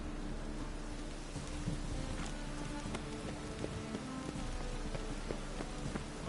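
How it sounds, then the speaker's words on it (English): Steady rain falls in a fantasy world in The Witcher 3: Wild Hunt, a dense continuous hiss with scattered drop taps across the whole stretch and no voices. "I like rain."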